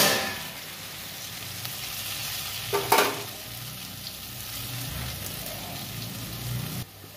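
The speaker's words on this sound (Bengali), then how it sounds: "মচমচি করে ভেজে নিব।" Lentil-paste fritters made with boiled elephant foot yam and masoor dal frying in hot oil until crisp, giving a steady close sizzle with a brief louder crackle partway through.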